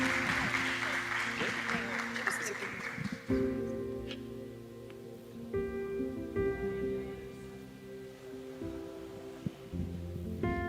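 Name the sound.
congregation applause in church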